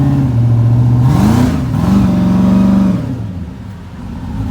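A turbocharged Ford truck engine pulls loaded up a hill, a loud close drone whose pitch climbs, holds steady, then eases off as the load drops.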